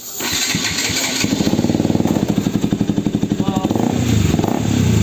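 A new-model KTM RC200 motorcycle fitted with a new exhaust and dB killer starts up close by, then settles into a loud, pulsing, throbbing idle with a few blips of the throttle.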